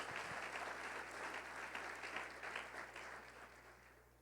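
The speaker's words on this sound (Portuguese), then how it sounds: "Dê a melhor salva de palmas que você puder dar para o Senhor." A church congregation applauds in dense, steady clapping throughout, a full roomful of hands with no talk over it, gradually thinning a little toward the end.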